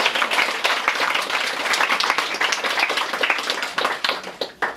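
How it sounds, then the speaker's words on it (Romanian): An audience in a bookshop in Calafat applauds warmly, many hands clapping in a dense, slightly uneven patter that stays strong before thinning toward the end. "Încă o dată aplaudați-o pentru că merită."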